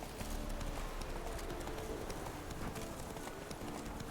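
Roach, the horse in The Witcher 3, gallops steadily with rapid rhythmic hoofbeats, close and fairly quiet, running unbroken throughout with no one talking.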